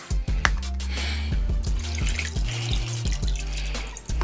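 Tomato juice pours into oxtail soup in a pressure cooker, making close, irregular splashing and gurgling with brief stops and restarts, heard alone.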